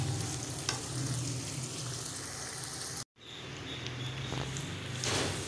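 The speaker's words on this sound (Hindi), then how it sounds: "अब इस कीमे को हम सही फुल ब्राउन करेंगे, फिर इसमें भिंडी ऐड करेंगे जी।" Minced meat (keema) browning in oil in a pan, a steady close sizzle mixed with stirring scrapes and a brief silent cut partway through.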